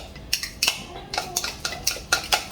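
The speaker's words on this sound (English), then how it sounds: "What I'm doing now is just stirring the cream cheese" A utensil scrapes and clinks in a bowl while cream cheese is stirred for frosting. The taps come in a quick irregular rhythm, close and fairly soft, with no voices.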